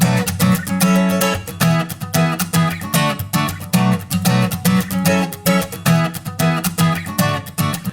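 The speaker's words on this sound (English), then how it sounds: "I've also got an acoustic guitar loop that sounds like this." An acoustic guitar loop is strummed in a steady rhythmic pattern with bright, percussive attacks, played through an Ocean Way room reverb plugin that adds a sense of space, with no voices.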